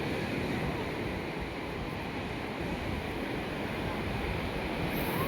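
Sea surf at a crowded beach during the Aati Amavasya holy sea bath, a steady broad roar of waves and wind heard at moderate level without pauses.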